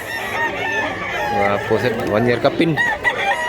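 Roosters crow and chickens cluck at a busy rural poultry market in Mantalungon, Cebu, the calls loud and close under steady talk from buyers and sellers.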